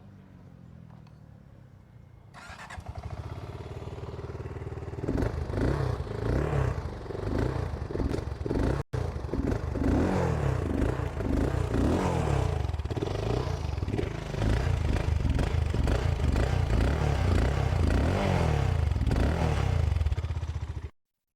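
A BSA Goldstar 650 motorcycle idles faintly, then its exhaust note grows loud as the engine revs repeatedly in sharp bursts, close to the microphone, with a brief dropout partway through.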